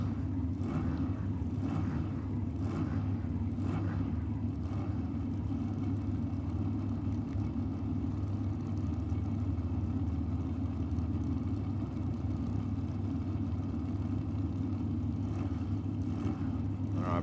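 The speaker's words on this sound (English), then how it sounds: "Brown completed the burnout procedure" Dragster and other race cars heard from a distance at Sydney Dragway during burnouts, a steady low engine rumble and drone held at even level throughout, no voices.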